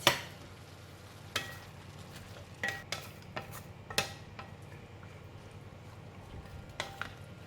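Chopped vegetables dropped into a pot of spaghetti sauce, giving scattered soft thuds, clinks and light stirring scrapes at irregular intervals over a quiet low hum, close and fairly faint, with no talk.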